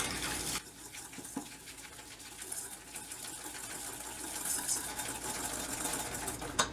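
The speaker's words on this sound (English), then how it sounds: "And then I'm just going to whisk them together." Whisking sugar into the base for a choux pastry cream in a home kitchen, a steady, fairly close whirring scrape of the whisk running continuously throughout, with no talking.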